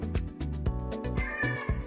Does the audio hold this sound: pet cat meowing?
yes